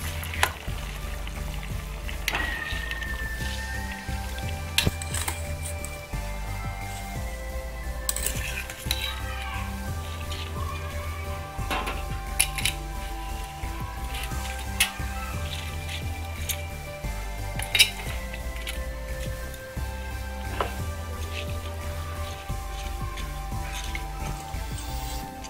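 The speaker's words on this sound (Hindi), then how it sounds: "अब हम इसमें चावल डालेंगे।" Rice tipped into a pot of simmering chicken and water for Muradabadi biryani, with steady bubbling, sizzle and clinks of a spoon against the pot throughout, alone without talk.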